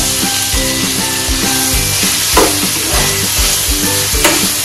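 Capsicum, tomato and other vegetables sizzle steadily in a hot pan with a pinch of salt, broken by repeated clattering scrapes of a spatula stirring them, loud and close, with faint tonal music underneath.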